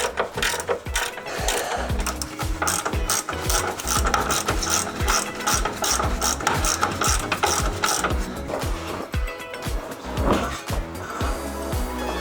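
A ratchet tightens engine mount bolts on a Jeep Cherokee XJ, giving rapid, continuous clicking strokes up close in a steady back-and-forth rhythm with no talking.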